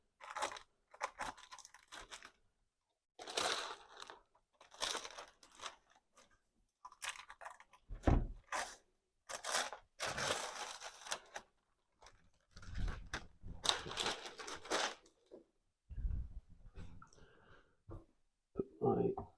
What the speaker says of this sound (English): Take this wax paper off carefully in case I can use it again.